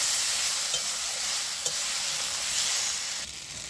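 Potatoes and tomato fry steadily in a pan for a puti fish curry, a constant close sizzle broken by a few soft stirring scrapes, with no talking.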